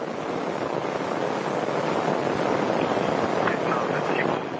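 A Soyuz rocket carrying a crew to the International Space Station roars through its launch, a broad, steady rumbling blast that stays dense and loud from start to finish, with no clear voices over it.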